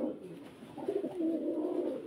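A common pigeon coos close by, a short soft throaty warble rising and rolling for a couple of seconds.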